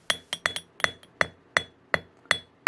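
A metal hammer strikes silver being forged by a silversmith, eight sharp ringing blows in an uneven rhythm, close and clear with brief metallic decays and no voices.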